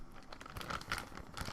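Small plastic bags holding tiny mini mutant figures crinkle and rustle close by in quick, irregular bursts, with a soft ASMR-style setting and no voice.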